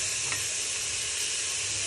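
Half a kilo of mutton fries in a karahi with a continuous, even sizzle and faint stirring, close and steady, no talking.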